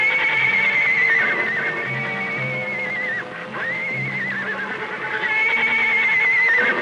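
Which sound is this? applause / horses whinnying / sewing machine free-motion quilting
horses whinnying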